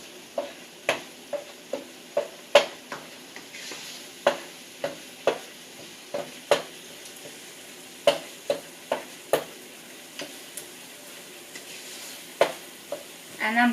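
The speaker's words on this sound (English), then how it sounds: "I'm going to let the masala and the spices cook for a few minutes" Masala and spices fry in mustard oil for achari chicken, a soft sizzle under a regular series of sharp spoon knocks and scrapes against the pan, fairly quiet, with no talking.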